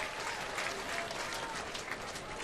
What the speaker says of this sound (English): Good crowd here on hand, as there always is.